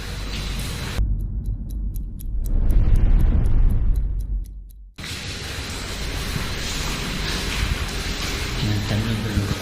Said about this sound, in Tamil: மழை தண்ணி லீக் ஆகிருக்கு தானே மேலேருந்து